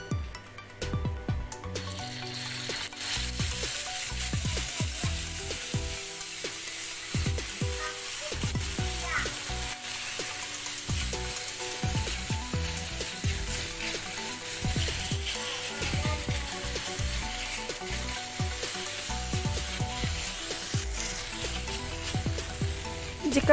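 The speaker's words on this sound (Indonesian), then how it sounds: "sekarang waktunya kita mau masukkan minyak secukupnya untuk menumis bumbu." Spice paste for chicken with yellow spices sizzles steadily in hot oil on a stove, a continuous close crackling hiss with scattered small pops throughout, no voices.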